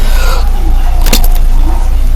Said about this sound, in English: let's just crash it one last final time